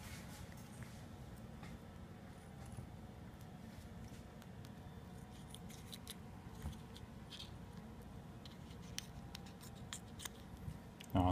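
Scissors snip open ball python eggs during hatching, a run of small, quiet cutting and rustling sounds at close range over a low background hum.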